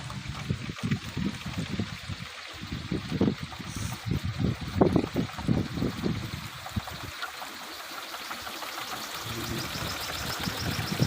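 Strong wind blows steadily across the hill at Bukit Kolecer near Situgunung, a continuous hiss with gusty, uneven thumps and rushing swells.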